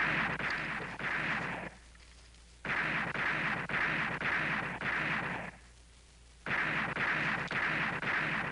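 Gunfire at a firing range comes in three dense bursts of rapid, loud, close cracks, each lasting a second or two, broken by short quieter gaps.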